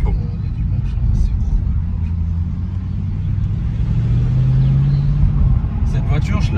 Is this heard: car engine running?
yes